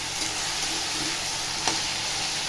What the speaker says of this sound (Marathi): लसूण फ्राय झाल्यावर कढीपत्ता, बीन्स आणि बटाटा चांगलं परतून घ्यायचं लसणामध्ये.